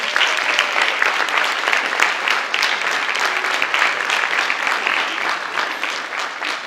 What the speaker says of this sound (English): Cadets, do you mind turning around and applauding your family?